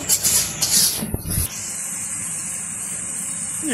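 Spice paste fries in a pan for village-style chicken curry, a steady bright hiss that follows a few brief scrapes and knocks and then sizzles on alone, close and fairly loud.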